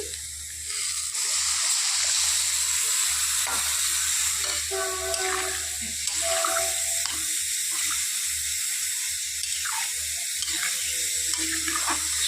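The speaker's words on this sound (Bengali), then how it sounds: "এখন এর মধ্যে দিয়ে দিব ঝোল" Broth poured into a pan of village-style tilapia fish curry, a loud continuous rushing pour over a simmering sizzle, with a few brief clinks.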